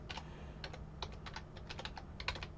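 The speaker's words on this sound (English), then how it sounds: "Try typing that into your address bar." Rapid, uneven bursts of keystrokes on a computer keyboard, close and fairly quiet over a low steady hum, with no talking.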